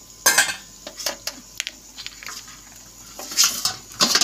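Pieces of fish are stirred into curry gravy in a pan, with close utensil clinks and scrapes against metal in irregular bursts and no talking.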